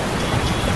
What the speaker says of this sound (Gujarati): અહીંયા વરસાદ આવી ગયો છે, બધું પાણી ભરાઈ ગયું છે બધું